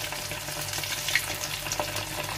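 Steady sizzling of boiled potatoes frying in hot oil, a continuous crackle with faint stirring, close and moderately loud.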